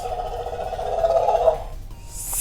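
A Mattel Jurassic World T-Rex Sound Surge toy roars once, a close electronic growl lasting about a second and a half, then cuts off into a short hiss.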